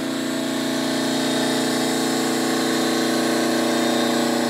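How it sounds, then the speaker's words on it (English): Pump on a tomato juice membrane filtration skid, running as a loud, steady mechanical hum and whine with no change throughout. "pumping it into the filtration skid, goes into the pump"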